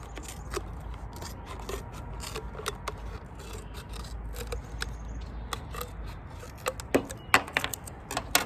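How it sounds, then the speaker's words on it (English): Scissors snipping around the bottom of a plastic bottle, a run of sharp irregular clicks and crinkly cuts that grow louder and denser toward the end, with no talking. "I just want to take it and take my scissors and cut around the very bottom"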